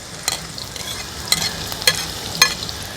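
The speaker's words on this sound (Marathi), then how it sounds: "मी कांदा ॲड केला आहे कांदा व्यवस्थित शिजवून घेऊया" Chopped onion sautéing in oil for a spicy Agri-Koli style fish curry, a steady soft sizzle with a few light spoon scrapes and stirs, close and without talk.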